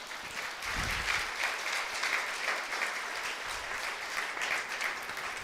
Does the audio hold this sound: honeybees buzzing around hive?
no